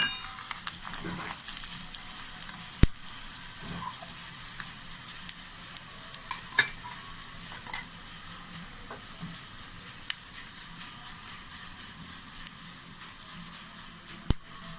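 Fenugreek and coriander seeds dry-roasting in a pan, a faint low crackle dotted with scattered sharp pops and ticks at irregular intervals.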